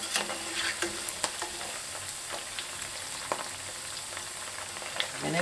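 Pre-cooked potatoes for Potatoes O'Brien sizzle steadily in a frying pan as they are turned, with a few scraping clicks from the utensil over the continuous fry.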